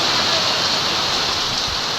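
Heavy, unbroken rain pours steadily close by during a week of nonstop downpour at a house, a dense hiss with no pauses, loud and unchanging throughout.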